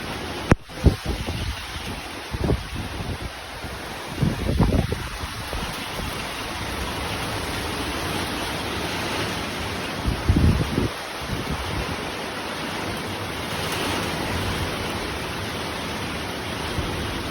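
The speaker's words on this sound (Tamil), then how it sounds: "மழையோட சவுண்டு கேட்குதா? எவ்வளோ வேகமாக பெய்யுது பாருங்கள்." Steady roar of heavy summer rain driven by gusting wind, broad and constant, with a few louder thumps and bursts near the start and midway.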